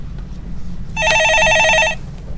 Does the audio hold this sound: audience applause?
no